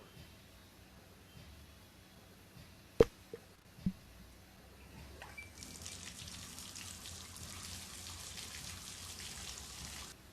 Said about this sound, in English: Pull the lever to start the shower.